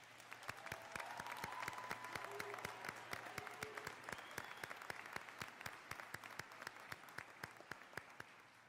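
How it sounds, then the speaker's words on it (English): Sustained applause from a college commencement crowd, many hands clapping steadily at an even level throughout, with no voices on top. "please join me in a round of applause for our faculty and staff"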